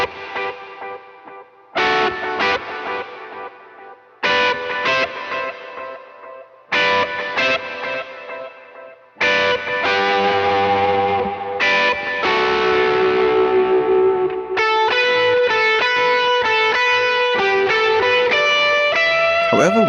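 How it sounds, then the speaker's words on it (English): Distorted electric guitar phrases with a wide delay bouncing side to side and a washy reverb tail, strummed in bursts then ringing sustained chords. "we can hear a certain amount of ping pong and bounce with the delay"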